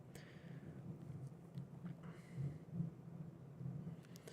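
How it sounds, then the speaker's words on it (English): Thunder from a severe spring thunderstorm rolls as a faint, continuous low rumble in the distance, swelling slightly at moments, with no talking over it. "You could probably hear the thunder rolling in the background."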